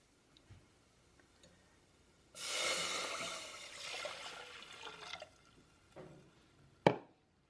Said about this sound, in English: and then we're going to add in our milk.